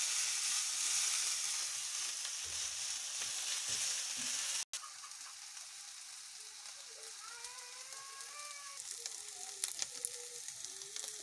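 Onions fry in a pan with a loud, steady sizzle and hiss that drops after a brief cut, continuing more softly as they are stirred, with occasional utensil scrapes and a faint voice underneath.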